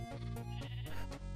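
Sheep bleat in the Minecraft video game, several short wavering baa calls in quick succession, clear and close, with no talk.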